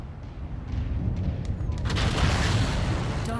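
Long-range missile salvo firing in MechWarrior 5: Mercenaries, a dense rumbling barrage of overlapping booms that builds and holds steady, loud and heavy in the low end.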